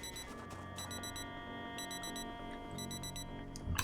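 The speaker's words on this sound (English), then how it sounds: "Hit the button right there. Turn off the alarm." An alarm clock rings in Project Zomboid, a video game. Its bursts of quick, bright electronic beeps repeat in a steady pattern over a low background hum, fairly faint throughout.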